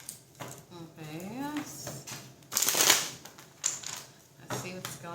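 A person talks briefly, then a quick crisp riffle of playing cards being shuffled, followed by a few softer card flicks and taps.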